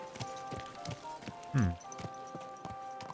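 A horse's hooves clip-clop at a steady walking pace in the video game Kingdom Come: Deliverance II, soft and regular, with one louder thud partway through and a voice speaking briefly.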